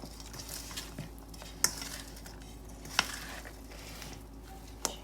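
A spoon stirs rice with lima beans and dill in a pot, a quiet scraping and shuffling broken by three sharp metallic clinks spaced a second or two apart.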